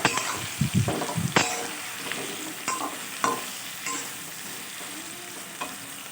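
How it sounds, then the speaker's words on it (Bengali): Ground ginger and garlic spice paste, added to potatoes, stir-fries in hot oil for a fish egg curry, giving a continuous close sizzle broken by several sharp scraping stirs, with no talk. "এটাকে তেলের মধ্যে একটু ভালো করে কষিয়ে নেব"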